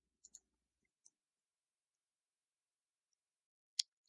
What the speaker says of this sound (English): Just double left click on it.